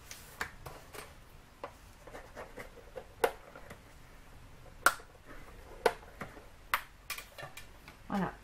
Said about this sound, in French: on va faire un pli à 1 cm. Voilà, et on va marquer notre pli.